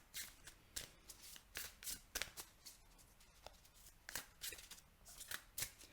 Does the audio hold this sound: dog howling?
no